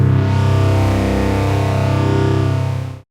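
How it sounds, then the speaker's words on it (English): A sustained chord from the FM8 synthesizer's Baby Got Beef preset, a thick, loud, gritty tone held steadily for about three seconds before stopping abruptly. "Load Baby Got Beef and play a chord."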